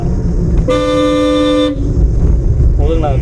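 A car horn gives one long, loud honk of about a second from a learner car on a driving lesson, with engine noise and a brief voice afterward.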